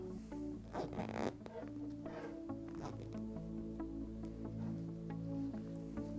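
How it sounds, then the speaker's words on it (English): A Boya BY-WS1000 microphone windshield is zipped up: a rasping zipper pull with a couple of bursts near the start, then fabric handling and faint rustles over a low steady hum. "And we shall zip this up."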